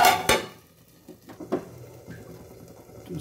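A lid goes onto a pot of radish-leaf and toor dal: a bright metallic clank at the start, followed by a few softer knocks and rattles of cookware in a quiet kitchen.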